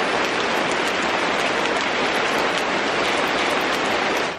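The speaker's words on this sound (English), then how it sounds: "We just got the sound of the rain." Heavy rain falls steadily and loudly, a dense, even hiss of drops with no pauses, close and enveloping.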